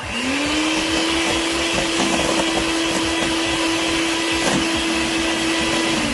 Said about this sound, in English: we have to beat the egg yolk